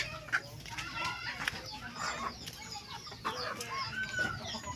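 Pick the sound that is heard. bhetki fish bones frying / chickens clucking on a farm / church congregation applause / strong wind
chickens clucking on a farm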